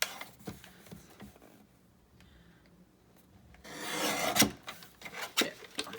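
Paper being trimmed along one edge with a cutting tool, a close scraping rasp that rises into a sustained rubbing stroke, preceded by softer scratchy taps and a brief faint tone, no talk.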